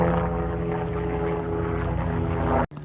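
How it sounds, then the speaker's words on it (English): A steady, droning rotor-and-engine roar from a helicopter passing overhead, loud and constant, cutting off abruptly near the end. "A heli chopper."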